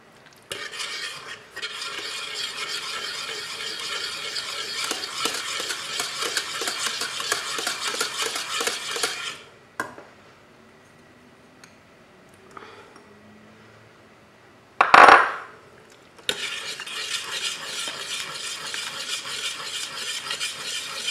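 Butter being stirred into a thickened cream off the heat, a long stretch of steady scraping and whisking, then a quiet pause, a sharp knock on the pan, and the stirring resumes.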